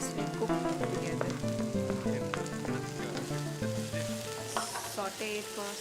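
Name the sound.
sauteing capsicum and carrots in a pan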